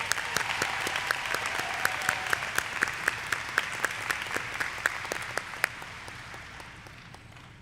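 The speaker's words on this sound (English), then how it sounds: "How about giving her another round of applause?" Sustained applause from a graduate commencement ceremony audience at Springfield College, a broad wash of many hands with a few distinct sharp claps standing out, slowly fading toward the end.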